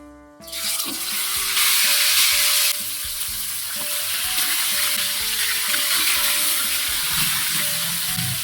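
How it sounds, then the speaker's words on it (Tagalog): Tilapia dropped into hot oil in a pan, setting off a sudden loud sizzle that settles into a steady close crackling fry, with faint clinks and a soft tonal hum underneath. "Pipirito tayo ng tilapia"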